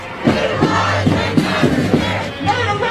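A protest crowd in Minneapolis calling for justice for George Floyd chants in loud, rhythmic unison, repeated shouted phrases rising and falling over a dense background of voices, with a low steady hum beneath.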